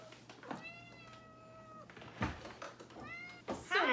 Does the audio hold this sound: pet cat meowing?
yes